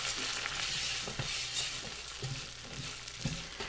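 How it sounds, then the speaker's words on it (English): Vermicelli and rice toasting in a pot are stirred, with a quiet continuous frying hiss and a few soft scrapes and taps of the spoon against the pot. "Give that a little stir."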